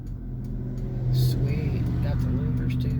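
A car passes on a street with a steady mid-range engine hum that swells slightly midway, with people talking over it.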